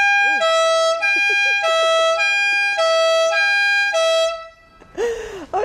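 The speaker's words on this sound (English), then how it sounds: "let's have a listen to the siren on this one as well" A loud two-tone police car siren alternating steadily between high and low pitches, repeating several times close by, then a brief rising wail at the end.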